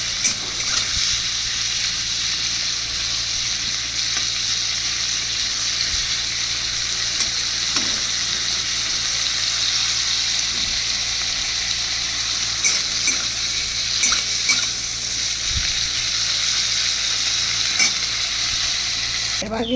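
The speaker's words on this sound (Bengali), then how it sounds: "এটা হালকা করে একটু ভেজে তুলে নেব" Prawns coated with salt and turmeric fry in hot oil in a Bengali home kitchen, producing a steady, loud sizzle with occasional crackles and stirring scrapes throughout, no voices.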